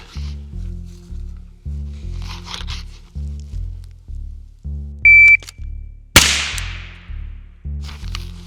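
A shot timer gives a short, sharp electronic start beep during a high ready pistol drill, followed moments later by a loud gunshot crack, all over a regular thumping musical beat.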